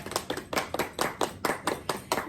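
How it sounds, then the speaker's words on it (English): Hand clapping on a podcast set, a quick run of sharp, distinct claps from a few people close by, irregular but steady, with no talk over them. "Let's clap it up for ourselves."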